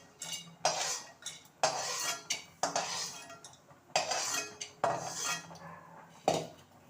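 Roasted fried gram and peanuts are scraped out of a pan into a vessel with a metal spoon: repeated loud scrapes and clinks in an uneven rhythm, close up, with no talking.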